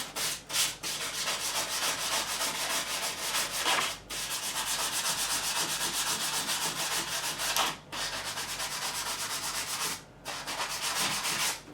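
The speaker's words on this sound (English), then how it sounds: "I'm going to take some sandpaper, some really fine sandpaper" Fine sandpaper rubbing back and forth along the fret edges of a Made-in-Japan Jackson RR3 Randy Rhoads guitar, a steady close scratchy hiss in long strokes broken by a few brief pauses, with no voices.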